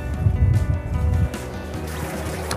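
Cooling water sloshing and gurgling out of a running sailboat engine's exhaust outlet, with a steady low engine rumble beneath; loud and close throughout, with no talk.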